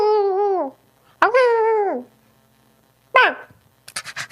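A voice imitates a barking dog, making three drawn-out, yelping barks close to the microphone with short pauses between them and a few brief sounds at the end.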